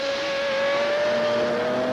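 Race cars including a Corvette at the 1986 IMSA Camel GTP round in Portland, with a loud sustained high-pitched engine whine that rises slightly in pitch as a car accelerates past.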